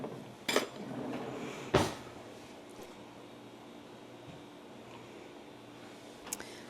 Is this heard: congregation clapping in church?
no